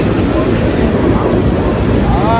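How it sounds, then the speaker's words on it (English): Manifest freight train rumbling past near the Gallitzin tunnels in Pennsylvania, a steady, loud low roar with wind buffeting throughout and a faint squeal of wheels near the end. "We got us a manifest train."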